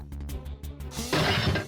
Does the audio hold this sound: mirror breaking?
yes